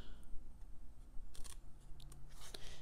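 Scissors snipping paper for a small tea-light luminaria, a few quiet crisp cuts close by over low background hum.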